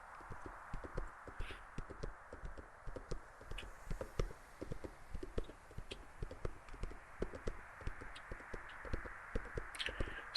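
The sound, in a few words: donkey hooves clip-clopping while being ridden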